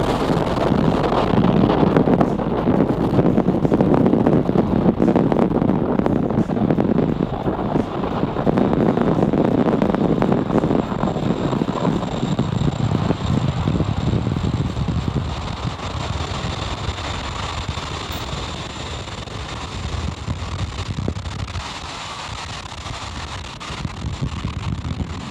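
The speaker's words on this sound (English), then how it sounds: "liftoff Falcon 9, go Transporter 11" Falcon 9 rocket climbing away after liftoff for the Transporter 11 mission from Vandenberg on the California coast, a loud continuous broadband rumble with wind buffeting that fades slightly toward the end, no voices.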